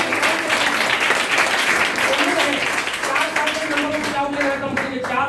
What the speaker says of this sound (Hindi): प्रेम सर की जबरदस्त ताली बजाइए